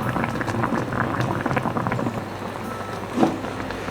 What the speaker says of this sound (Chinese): 大概煮10分钟